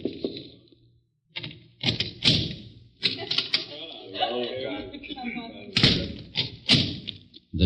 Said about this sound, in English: Mr. Cochran knocking on a door at the end of the alley.